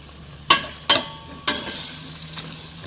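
Chicken tinola with papaya being stirred in a cooking pot: four distinct scraping clatters of the utensil against the pot, spaced unevenly over a low steady simmer, fairly close and with no talking.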